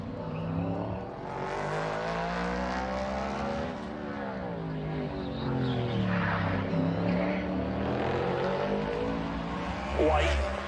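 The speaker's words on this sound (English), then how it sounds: "Kyle Larson takes to the track in his Hendrick Chevrolet" Kyle Larson's Hendrick Chevrolet NASCAR race car laps a qualifying track at the LA Coliseum, its engine rising and falling in pitch under a commentator's steady talk, a brief surge of revving near the end.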